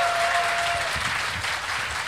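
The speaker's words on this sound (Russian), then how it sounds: "Ваши аплодисменты нашему спикеру." Audience applause in a hall for a speaker at a Science Slam popular-science event, dense and steady clapping that fills the short stretch without a break and with no talk over it.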